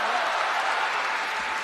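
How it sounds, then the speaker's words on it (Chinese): A live crosstalk comedy audience breaks into dense, steady clapping that fills the whole moment. "大伙儿鼓掌，让他来"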